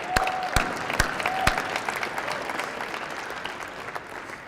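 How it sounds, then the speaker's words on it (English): Conference audience at the 2013 CEO National Conference keynote applauds Judy, a full crowd clapping with several loud close claps and brief whistles early, then a sustained even applause that slowly tapers off. "Can we all just give Judy a round of applause?"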